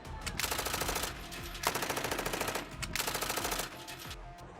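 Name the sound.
gunfire on the streets during protests in Iran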